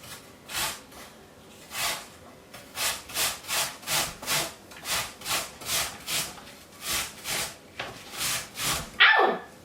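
Apple being coarsely grated by hand in a home kitchen: steady rhythmic rasping strokes, about fifteen back-and-forth scrapes, close and fairly loud, with a brief higher scrape at the end and no talking.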